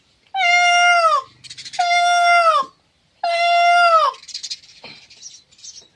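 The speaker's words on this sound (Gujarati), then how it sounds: "આ ભાખડીના મોરલા બોલ્યા છે" Peacocks give three loud, drawn-out wailing calls, each rising and falling before a short gap, followed by softer scattered chatter, close by and clear, with no people talking.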